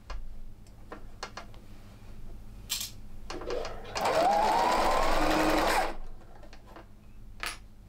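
A sewing machine stitches quilted fabric in one sustained burst of rapid whirring mid-clip, surrounded by scattered ticks and clicks of handling the machine.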